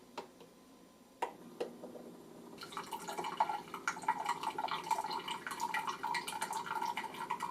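Keurig K-Supreme Plus coffee maker running a hot water brew, with a couple of clicks, then a steady trickling and dripping of water that builds and continues close by.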